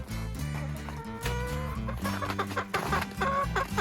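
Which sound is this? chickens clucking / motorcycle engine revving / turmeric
chickens clucking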